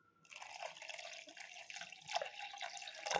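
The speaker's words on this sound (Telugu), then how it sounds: "ఇప్పుడు దీంట్లో కొంచెం వాటర్ వేసుకుందామండి" Water is poured into a pot of sambar in a continuous, close, splashing stream that starts after a brief pause and grows slightly louder toward the end.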